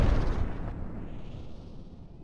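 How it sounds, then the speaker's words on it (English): Layered fighter explosion effect from a video game, four pitch-shifted sounds stacked together: one loud, heavy boom with a low rumbling burst that decays steadily over about two seconds, heard alone. "the fighter explosion sound effect is actually four different sounds played together with a modified pitch"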